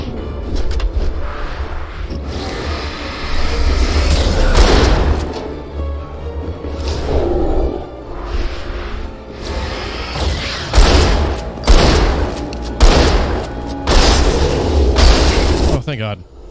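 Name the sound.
shotgun shots and booms in the video game Alan Wake 2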